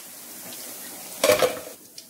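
Cauliflower pakoda pieces turned in hot frying oil, a short burst of bubbling sizzle with a clink of a utensil against the pan, close and alone.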